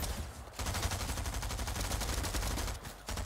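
Rapid SMG gunfire in a video game, dense sustained bursts of automatic shots with two brief pauses, loud and close.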